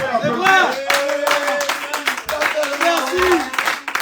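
A church audience claps in scattered, sharp bursts under a loud voice speaking continuously over them.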